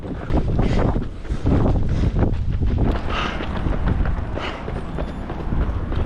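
Strong wind buffets the microphone along a seaside course during the Pohang beach marathon, a steady loud roaring rush that runs without a break for the whole stretch.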